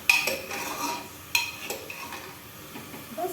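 Grated carrots stirred in hot ghee in a pan for gajar halwa, with scraping clinks of a metal spoon against the pan at irregular intervals over a soft frying sizzle.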